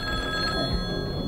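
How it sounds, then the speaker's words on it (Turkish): A telephone bell rings in a 1996 Turkish TV series, a loud, close, steady electric trill that fills the moment with no voices over it. "Telefonmuş be."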